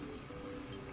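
Tap water runs steadily from a faucet into a bucket, a continuous close splashing rush with no talk, filling the whole second evenly.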